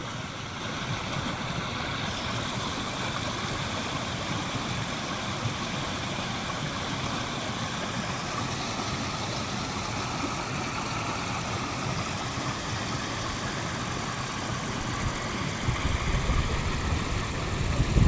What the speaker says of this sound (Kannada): ಎಲ್ರಿಗೂ ಏನು ಈ ರೇಂಜಿಗೆ ನೀರು ಹರಿಯೋ ಸೌಂಡ್ ಕೇಳಿಸ್ತೈತೆ ನನಗೆ